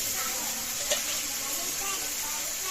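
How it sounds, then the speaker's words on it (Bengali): Spice masala for beef bhuna stir-fries in a hot pan with coriander and turmeric powders and salt, giving a continuous close sizzle and hiss with faint scraping of a spoon through the mix. "এবার মশলাটা ভালো মতো কষিয়ে নেব"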